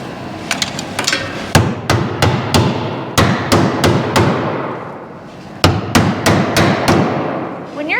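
Loud, sharp hammer blows strike rusty car body sheet metal being folded and shaped, landing in quick irregular bursts of ringing metallic hits with a brief pause midway, close and alone.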